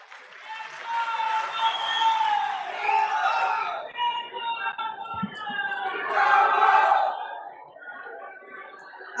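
A large political rally crowd in Jodhpur, Rajasthan roars with cheering, chanting and clapping, a loud, sustained swell that dips briefly midway before surging again.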